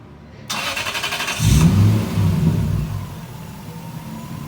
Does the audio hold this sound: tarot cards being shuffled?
no